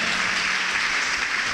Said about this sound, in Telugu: గట్టిగా చప్పట్లు కొట్టండి, గట్టిగా కొట్టాల